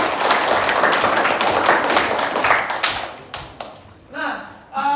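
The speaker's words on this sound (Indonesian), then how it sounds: "Tepuk tangan dulu." A classroom of students gives a burst of applause, many hands clapping loudly for a few seconds, then thinning into scattered claps before a voice starts speaking near the end.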